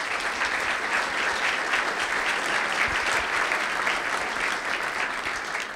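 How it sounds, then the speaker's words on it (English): An evening audience at an energy and national security panel applauds the arriving guests, a dense, sustained wash of clapping that stays loud and even throughout with no talk over it. "please join me in a round of applause and thanking them for coming here tonight"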